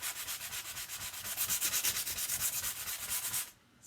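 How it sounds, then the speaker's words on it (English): Sandpaper rubbed back and forth by hand on a home decor gift piece, making close, rhythmic rasping strokes about seven per second that stop abruptly near the end. "I prefer my little sandpaper."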